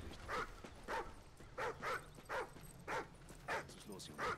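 Whimpering and yips from Riley, a dog in the Call of Duty: Ghosts game, come as about eight short, fairly close cries at a steady pace over a low background hum.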